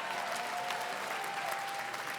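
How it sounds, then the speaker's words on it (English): Sustained applause for graduates at a graduation ceremony, steady dense clapping from a crowd throughout, fairly distant and even in level. "Let's give a round of applause for all of our digital social media graduates."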